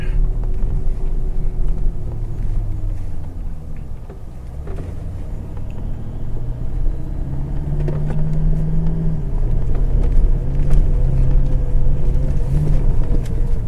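A four-wheel drive crawls in low range over a rough bush track at Coolah Tops, its engine a steady loud rumble with gentle rises in revs throughout and no talk.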